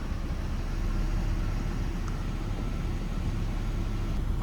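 A Volvo V70 engine idles close by with a steady, even low rumble and hum, unchanging throughout with no talk.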